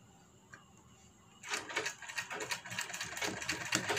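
Sewing machine stitching the back neck of a matka-style blouse, a quiet stretch then a steady close whirring run of stitches with a rapid mechanical rhythm starting midway and continuing to the end.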